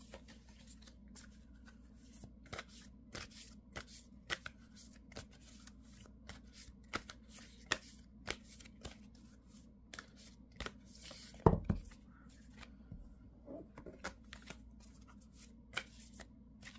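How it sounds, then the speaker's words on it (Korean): Tarot cards are shuffled by hand in a quiet room, giving soft repeated riffling and flicking taps spread over several seconds, with one louder shuffle burst near the end and no speech. "마지막 조언 카드 하나 더 뽑아볼게요."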